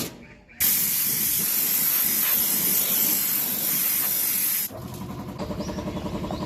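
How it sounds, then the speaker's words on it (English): At an air compressor station beside a mountain trail, a loud, steady blast of hissing air starts abruptly after a brief pause and runs for about four seconds, then cuts off and leaves a quieter rhythmic mechanical churn. "And we have an air compressor station."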